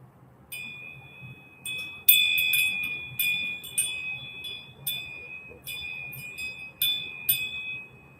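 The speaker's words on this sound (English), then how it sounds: "going to ring the bell" A bell rings out again and again after a closing prayer, each clear metallic strike leaving a sustained shimmering tone that rings and fades, fairly close and alone without talk.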